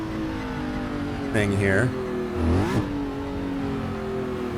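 A small sports car in the Assetto Corsa racing game, driven on a 1960s Watkins Glen track, revs its engine twice in rising bursts beneath someone talking throughout.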